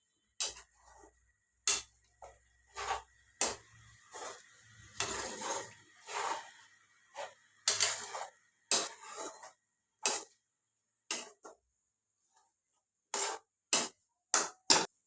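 Goat blood fry being stirred in a pan, heard as scattered close taps and scrapes of a utensil against metal in an uneven rhythm, separated by short quiet gaps.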